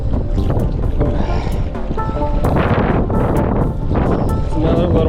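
Strong wind buffets a microphone on a fishing boat out on open water, a loud continuous roar and rumble with gusty surges throughout the whole stretch.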